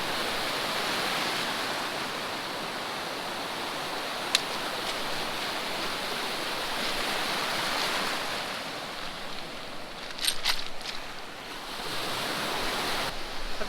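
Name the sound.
waves breaking on the Lake Huron shore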